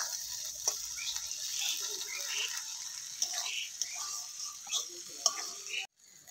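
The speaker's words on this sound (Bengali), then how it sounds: "প্রথমে আলুটাকে দিয়ে একটু ভেজে নেব।" Potato pieces frying in oil in a pan, a soft steady sizzle with occasional light clicks of stirring, under quiet talk.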